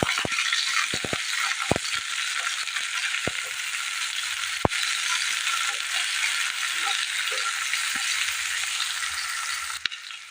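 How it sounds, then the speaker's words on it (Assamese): Chopped large onion frying in a pan for a red lentil dal, a steady close sizzle with scattered crackles and spatters throughout, no talking. "এয়া পিঁয়াজখিনি অলপ ভজা যাওঁতে"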